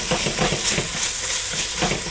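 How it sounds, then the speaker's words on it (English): Ground beef and chopped prosciutto cook in a pan with a steady, loud sizzling hiss. Soft rhythmic stirring pulses run through it close up, with no voices. "I just want to cook this meat"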